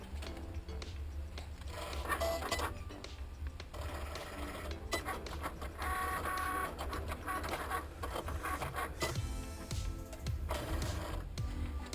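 A Cricut cutting machine slices permanent vinyl, a steady mechanical whirring and printer-like clatter of the moving carriage running continuously and fairly loud close by.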